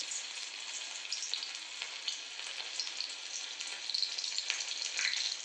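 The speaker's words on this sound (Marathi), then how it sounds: "तेल तापलेलं आहे. मी आता एक चंक सोडून बघतो." Soya chunks deep frying in hot oil, a steady crackling sizzle that holds even and close throughout, swelling slightly louder toward the end with no voices.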